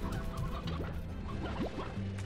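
Chickens cluck in the video game Slime Rancher, several short rising clucks and squawks repeating over a steady low background hum, fairly close and moderately loud, with no talking.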